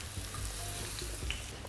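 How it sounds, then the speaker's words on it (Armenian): Eggplant boats fry in seasoned vegetable oil with a steady, close crackling sizzle and faint popping throughout, no voices. "համեմված բուսայյուղով տապակում ենք սմբուկե նավակները երկու կողմից"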